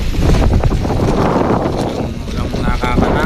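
Strong seaside wind buffets the microphone in a steady, loud roar near a beach where fishing boats sit moored, with a faint rhythmic clatter underneath.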